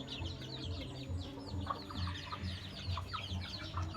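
Caged chickens and small chicks in a pen, a steady busy chorus of high peeping chirps over lower clucking, close and moderately quiet.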